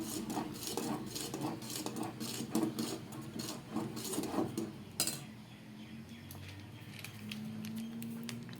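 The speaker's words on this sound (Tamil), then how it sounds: "சீனி போட்டு கிண்டிக்கலாம்" Sugar being stirred into ragi puttu in a pot, soft repeated scrapes and light utensil clinks close by for about five seconds, then a quieter stretch with low background hum.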